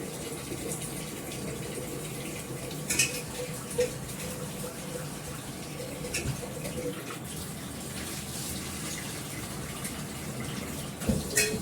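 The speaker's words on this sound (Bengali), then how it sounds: "চালটা ধুয়ে নিলাম, চালটা আমি অনেকবারই ধুই" Rice being washed by hand in water, steady running and sloshing water with occasional louder splashes and clinks throughout, fairly close, no talking.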